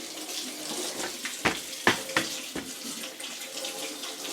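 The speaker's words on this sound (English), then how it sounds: "I'm rinsing my hand clean just so I don't get everything all greasy every time" Water runs steadily from a kitchen tap while greasy hands are rinsed during venison sausage making, with a few splashy surges as the hands move under the stream.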